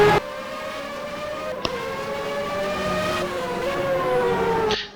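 A race car engine in a DTM broadcast round in Korea, coming around the final corner on an out lap before qualifying, a steady high-pitched engine whine with rising and shifting tone, fairly loud and continuous.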